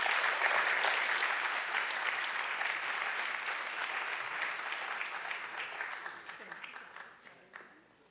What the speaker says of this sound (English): Can we please get a large round of applause for this wonderful group?